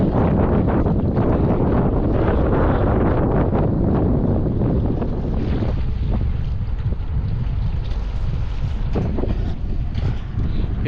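Strong wind roars continuously across the microphone at sea on Kuwait Bay, heavy gusting rumble with some water noise, no one speaking.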